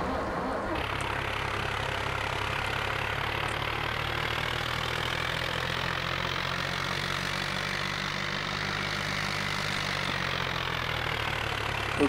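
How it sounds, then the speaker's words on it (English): A tractor engine in the farming game Farming Simulator 2011 idles in a steady, unbroken low drone that holds at an even level throughout, with no talking. "So let's jump back to our tractor."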